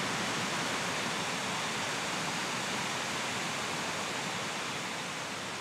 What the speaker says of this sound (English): I've come to a spot now where you can see the lower waterfalls more clearly.